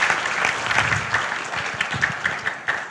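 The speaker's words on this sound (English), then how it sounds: "Please give them a round of applause to the welcome distinguished guests." A conference audience at an opening ceremony applauds to welcome distinguished guests, a dense, loud burst of many hands clapping that holds steady with small swells throughout.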